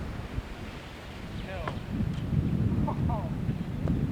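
Strong wind gusting across an outdoor disc golf course during an amateur championship round, a steady low roar and buffeting against the microphone that swells slightly louder partway through, with a few faint high chirps above it.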